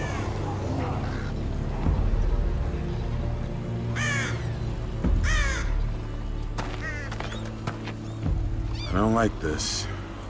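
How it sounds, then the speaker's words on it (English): Crows caw repeatedly in The Walking Dead: Michonne game, harsh calls spaced through the scene over a low ambient drone, with voices talking in between. "Just those fucking crows"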